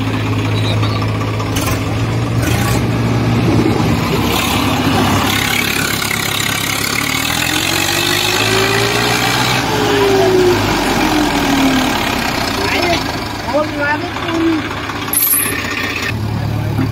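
A Swaraj 855 tractor engine straining to pull a fully loaded trolley out of mud, a loud steady diesel rumble with rising and falling revs, with people talking nearby.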